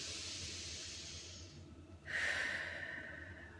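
A slow, deep belly breath drawn in through the nose during an abdominal breathing exercise, a soft airy hiss that swells into a louder rushing inhale near the end, close and alone.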